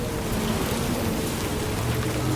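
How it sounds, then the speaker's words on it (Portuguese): Steady rainfall in the video game Death Stranding 2: On the Beach, a continuous dense hiss with a low rumbling undertone, even and moderately loud throughout, with no voices. "Mas também com essa chuva toda que tá dando"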